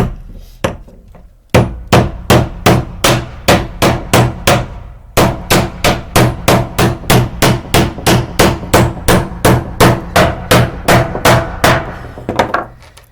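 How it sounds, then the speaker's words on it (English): A small pink hammer drives a nail into wood with steady, rhythmic blows: a few opening strikes, a short pause, then a long run of evenly spaced, loud, close metallic thwacks. "But we're just going to pound this in right quick."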